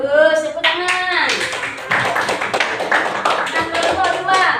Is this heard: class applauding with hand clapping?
yes